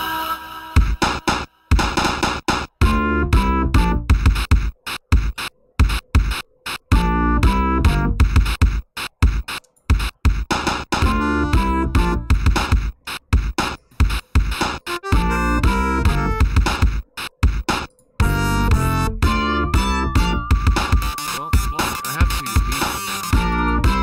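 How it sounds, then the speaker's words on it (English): Video game music in the Sega Mega Drive sound font, dense chiptune-style synth melody over punchy bass and percussive hits, loud and continuous with brief gaps, no talking. "Yeah, that was definitely the Mega Drive sound font."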